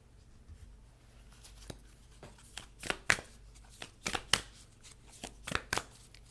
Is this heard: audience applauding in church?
no